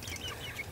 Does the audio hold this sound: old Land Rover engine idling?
no